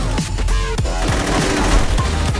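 Rapid gunfire from a Saints Row 2 multiplayer match crackles in dense bursts, with sharp repeated shots and booming impacts layered loudly over one another.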